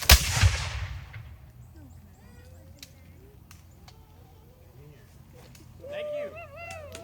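Musket salute volley at a 250th Declaration reading: one loud, sharp, echoing boom at the start that fades into crowd murmur, with children's and adults' voices chattering afterward.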